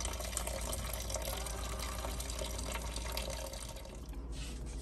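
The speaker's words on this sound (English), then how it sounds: "So now we have to pour the water out." Water pouring out of a cooking pot of boiled shea leaves, a continuous close splashing gush that tapers slightly toward the end, with no talking.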